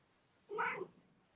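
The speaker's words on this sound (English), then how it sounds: "I hear you, kitty kitty" A house cat gives a single short meow, fairly close and clear, in an otherwise quiet room.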